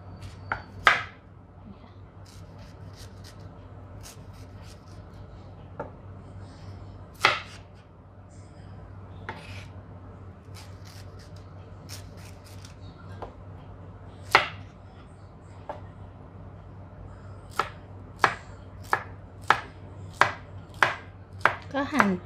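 A knife chops through pineapple on a cutting board in separate sharp cuts, spaced irregularly at first and then coming quicker and steadier, over a low steady hum.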